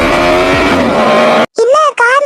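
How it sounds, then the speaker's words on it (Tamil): A car engine revs loudly and continuously for about a second and a half, close by, before cutting off abruptly; short bursts of a voice follow immediately afterward. "இல்ல, கார் சவுண்ட் கேக்குது."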